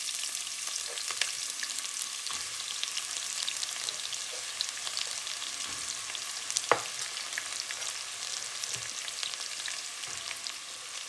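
Onions fry with cumin seeds, black cardamom, star anise, cloves and peppercorns, giving a steady soft sizzle with occasional crackles and pops, quiet and continuous throughout, no voices.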